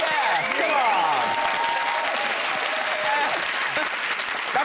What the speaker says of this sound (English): That's real applause. That's the crew.